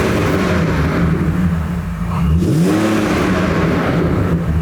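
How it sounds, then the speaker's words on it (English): BMW 330i fitted with a Scorpion exhaust, revving loudly at close range, with a deep steady burble that swells, dips briefly and climbs again as the engine pitch rises and falls. "330i with the Scorpion exhaust"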